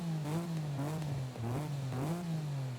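A 3-liter V6 car engine in Forza Horizon 5 revs repeatedly, its pitch rising and falling in three or four smooth sweeps, loud and close, with no talking.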